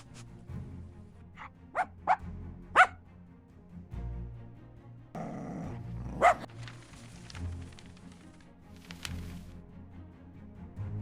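A dog lets out several sharp, separate barks at close range, with a rougher growling burst in the middle and quieter stretches between.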